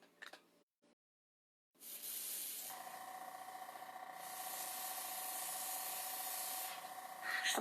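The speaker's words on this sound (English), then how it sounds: "I'll just spray over it." After a few brief clicks and a moment of silence, a steady aerosol spray hisses continuously onto a resin model kit, with a short rattle near the end.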